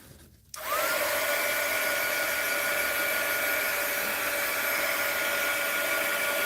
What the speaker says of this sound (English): how does this act if I hit this with the heat gun